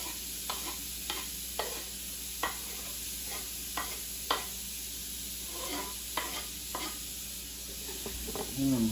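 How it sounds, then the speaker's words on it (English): Vegetables sauté in butter in a pan with a quiet, even sizzle, punctuated by regular soft taps and scrapes of a stirring utensil, and a brief low rustle at the end. "I'm gonna put all these vegetables in the pan so they can soften up with the butter"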